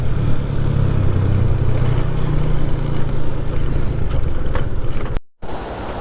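Fast-flowing river water rushes in a steady, loud roar along a mountain valley road between Naran and Nomal, a broad continuous wash with a brief dropout near the end.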